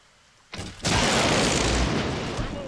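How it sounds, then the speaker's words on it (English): An explosion in the Myth video game blows up a tree: a short pop followed a moment later by a big booming blast that rumbles on for seconds, loud and close. "oh, and it blew up that tree."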